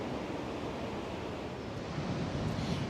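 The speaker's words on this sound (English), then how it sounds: "the waves are subtle and calming" Soft, steady ocean surf washes continuously beneath a deck on a sunny day, a gentle, even hiss with faint wind and no distinct breaking crashes.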